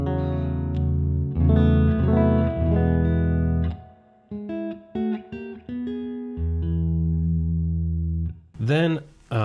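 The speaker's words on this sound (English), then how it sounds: "This is the basic amp sound" Clean electric guitar through an amplifier with reverb, sustained chords and single notes ringing out and decaying into a spacious tail.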